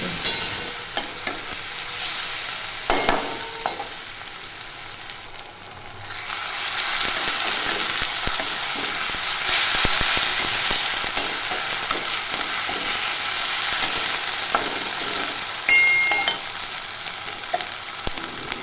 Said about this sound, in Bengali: এবার আদা রসুন পেস্টটা পেঁয়াজের সাথে ভালো করে নাড়িয়ে নেব আদা রসুনের কাঁচা গন্ধটা চলে যাওয়া পর্যন্ত